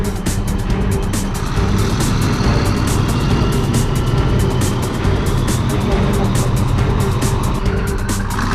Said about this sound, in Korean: 먼저 훈련에 돌입한 전차가 가장 난 코스인 S형 길에 들어섰다.